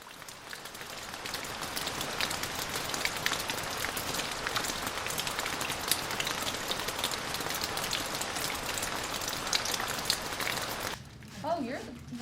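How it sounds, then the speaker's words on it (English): Steady rain pours down on a surface in Knoxville with a dense hiss and patter, close and constant, and it lets up briefly near the end. "now it's starting to rain in Knoxville too"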